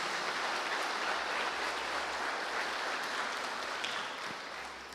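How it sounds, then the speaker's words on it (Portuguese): Applause from a church congregation during a sermon, a dense, even wash of many hands clapping at once, faint and distant, tapering off toward the end. "Dá um aplauso a Ele, glória e honra ao nome de Jesus."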